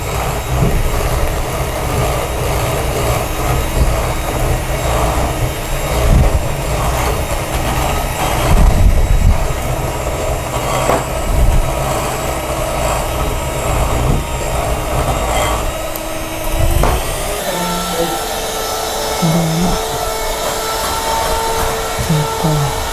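An electric mixer beats English fruit cake batter at high speed, a loud continuous motor whine and churning rumble with small shifts in pitch, heard close and alone.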